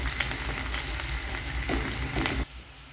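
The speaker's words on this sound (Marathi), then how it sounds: "अशा पद्धतीने कांदा घातलेला आहे, गुलाबी रंगावर परतून घ्यायचा आहे" Chopped onion sautéing in a pan of oil with crackling cumin and mustard seeds for a Maharashtrian brinjal dish, a steady close sizzle with occasional stirring scrapes that drops to a quieter hiss near the end.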